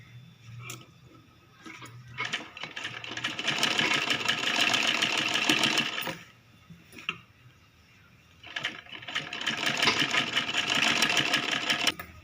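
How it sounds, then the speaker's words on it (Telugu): A sewing machine stitches along the edge of a girl's long frock, running in two sustained bursts of rapid mechanical chatter separated by a quieter pause, close and clear with no talking. "ఈ ఎడ్జ్ నుంచి కుట్టు పెట్టుకుంటూ రావాలి"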